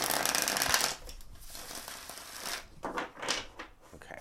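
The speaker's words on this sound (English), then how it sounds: "Okay, one more shuffle," A deck of cards being shuffled by hand at a table, a burst of riffling followed by quieter handling and a couple of short shuffle bursts, close up.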